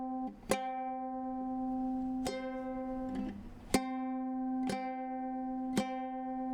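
Ukulele notes plucked one after another, each ringing out with a faint wavering beat between two slightly mismatched strings.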